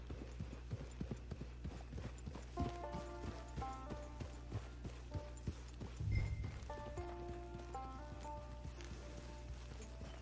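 Horse hooves clip-clop at a walking pace in the Red Dead Online game world, a regular string of close, crisp strikes over a low ambient hum, with a soft musical tone drifting in behind.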